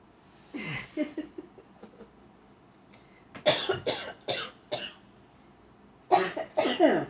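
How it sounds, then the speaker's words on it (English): Bursts of coughing: a short fit, a pause, then a harsher run of several coughs and a final pair, close and fairly loud. "And coughing."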